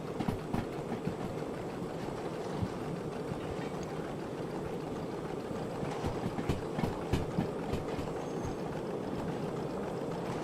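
Simulated train rolling on rails in the video game Derail Valley, a steady dense rumble with rhythmic clicking of wheels over track joints, continuous and close throughout with no voices.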